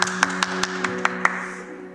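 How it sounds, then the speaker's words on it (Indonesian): Sparse hand claps from a small online children's healing church service, about seven separate claps in the first second and a half, then fading, over a soft background hum. "Berikan tepuk tangan buat Tuhan."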